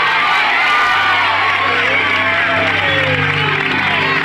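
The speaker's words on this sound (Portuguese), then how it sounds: "E misturar esses aplausos com gritos de glória a Deus." A church congregation claps and shouts praise to God in a dense, loud wash of cheering, whooping and overlapping voices that holds steady throughout.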